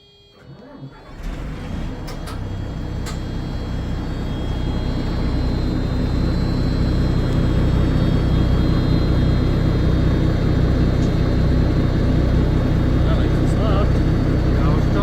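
A Bison military vehicle engine cranks on two standard 683 commercial vehicle batteries, catches within a second and then settles into a loud, steady rumbling idle that keeps building slightly, with no voices.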